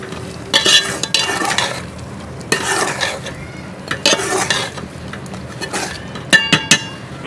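Spatula stirring and scraping chicken keema with garam masala and coriander in a pan, in several close bursts of scraping and clinking with a soft sizzle underneath, no talking.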